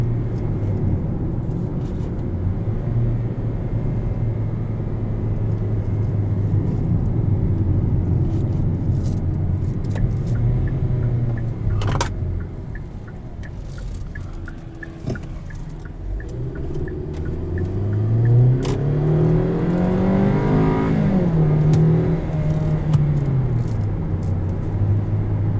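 A 2018 Hyundai Sonata SE accelerates along a road, engine drone rising in pitch and dropping at automatic upshifts, with a steady rumble of tyres and wind underneath and no talk.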